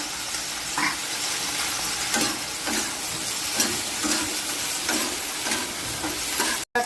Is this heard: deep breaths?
no